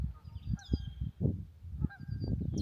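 Geese honking by a lake, repeated nasal honks overlapping from several birds at moderate distance, steady and lively across the moment.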